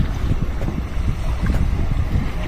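A boat passes close by on a river in the Sundarbans, a steady low engine-like rumble with buffeting wind noise over the microphone throughout.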